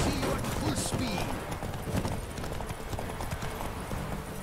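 Hoofbeats drum in a fast, steady rhythm as Roach gallops at full speed in a Witcher 3 race quest. Game ambience runs underneath, and a voice may be faintly present.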